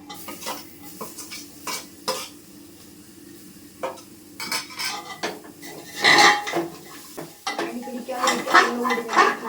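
Chili powder, tomato and curry leaves stirred in a pan for a bone and ash gourd curry: a quiet sizzle under repeated close metal spoon scrapes and clanks against the pan, growing louder and busier toward the end.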